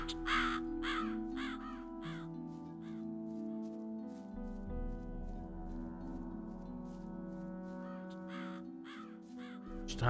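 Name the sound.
crows cawing in the video game Gothic 2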